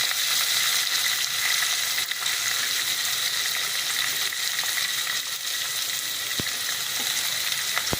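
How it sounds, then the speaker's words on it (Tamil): Chopped onions, garlic and green chili sauté in a pan with oil and whole spices for a biryani-style tomato rice, giving a steady, close sizzling hiss throughout with a few faint clicks and no talk. "வெங்காயம் நல்லா வதங்கணும் அதுக்கு கொஞ்சம் உப்பு நல்லா வதங்கட்டும்"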